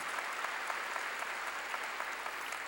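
Steady church congregation applause during a sermon, dense and continuous, with many hands clapping at once and no pauses.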